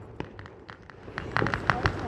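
Fireworks rockets bursting at a July 4th display in Cheboygan, a series of sharp pops and crackles growing denser and louder toward the end, with people talking and exclaiming over the bangs.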